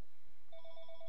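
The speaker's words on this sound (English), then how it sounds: "Sorry about that phone ring." A telephone rings in short repeated electronic bursts, fairly faint, alone with no talk over it, heard during a Christmas-themed parkour session in the game Cubic Castles.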